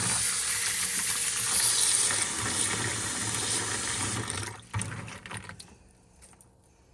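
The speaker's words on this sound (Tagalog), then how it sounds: "Hugasan natin maigi. Para malinis siya." Food being rinsed under running tap water before boiling, a steady rushing splash for about four seconds that breaks into uneven drips and handling noises before fading out.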